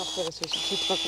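A small battery-powered chainsaw runs with a steady, thin high whine that starts partway through and holds, mixed with close, brief mechanical ticks while people talk in French over it during brush clearing.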